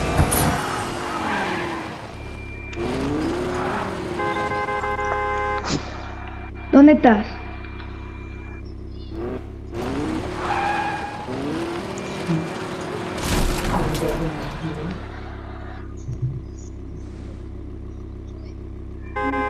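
Video game car driving with engine noise and skidding, squealing tires, heard under near-continuous conversation from people talking over the gameplay.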